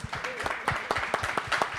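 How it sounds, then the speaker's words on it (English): Scattered clapping from a small panel audience at Fotografiska in New York, steady and moderately quiet, with individual claps audible throughout. "You are obviously clapping"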